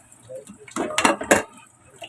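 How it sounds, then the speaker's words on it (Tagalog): Dishes and cutlery clatter and clink in a few short bursts near the mic, with quiet background noise between. "Hugas naman tayo ng pinggan"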